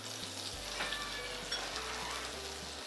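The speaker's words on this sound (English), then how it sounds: "You put butter in a pan?" Butter sizzles and fries in a hot pan, a steady close crackle with a low hum running beneath it throughout.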